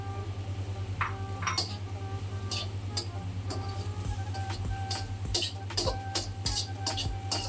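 Vegetables stirred in a cooking pan over medium flame, a spoon scraping and clinking against the metal in quick irregular taps over a steady low hum, fairly quiet.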